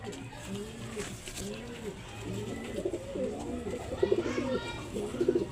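Pigeons coo repeatedly in soft, rounded calls, several birds overlapping close by against a faint background hum.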